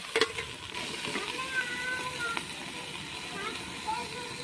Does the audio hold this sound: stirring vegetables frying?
yes